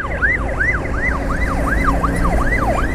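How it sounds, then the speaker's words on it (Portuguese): An ambulance siren wails in a steady rising and falling cycle, loud and close, over the rumble of traffic on the BR-381 Fernão Dias highway in Minas Gerais, Brazil, with no voices. "Ó, ambulância ali, ó."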